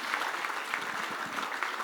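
Brief, steady clapping from an audience at the Atal Mithila Samman 2019 award ceremony, a close, even patter of applause.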